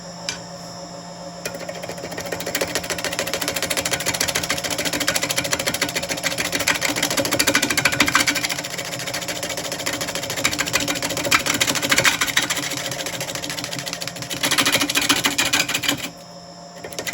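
Power tool hollowing out the inside of a cedar burl bowl: a loud, steady mechanical whir with rapid buzzing chatter that runs for most of the stretch before cutting out near the end.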